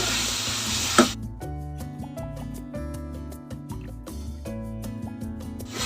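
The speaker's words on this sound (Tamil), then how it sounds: "இந்த தக்காளி வதக்கும் போது நல்லா இந்த மாதிரி கரண்டிலே இப்படி தள்ளி விட்டுக்குங்க." Chopped tomatoes sauté in a pan for a vegetable kurma, a steady close sizzle broken by scraping and clinking as a ladle pushes them around, with a sharp splash of hiss at the start.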